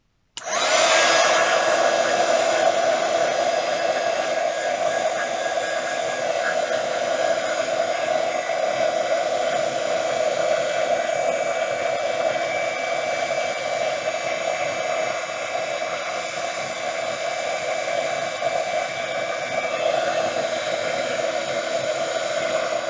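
A hair dryer runs steadily and loudly for the whole stretch, drying paint on a small model boat miniature, a constant close whoosh with a hum and no talking.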